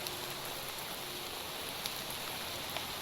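Steady rain falls in the TerraFirmaCraft modpack of Minecraft, an even, hissing wash of drops with no pauses, soft and continuous.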